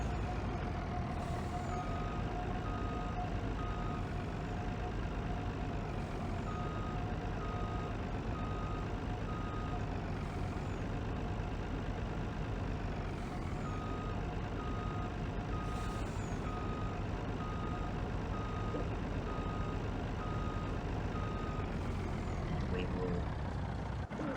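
A truck reverses and parks in Farming Simulator 2019, its backup alarm beeping in a slow regular pulse over a steady diesel engine drone, with faint hissing air-brake releases at intervals.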